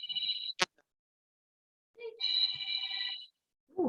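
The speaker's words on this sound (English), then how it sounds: "somebody's phone's ringing" A telephone rings in electronic bursts: a short trill, a sharp click, then a longer ring about a second long, with another ring starting at the end. The rings are fairly close and clear, with silence between them and no voices.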